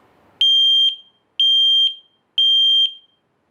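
Three loud, piercing smoke alarm beeps sound in a regular rhythm, each about half a second long, with silence between.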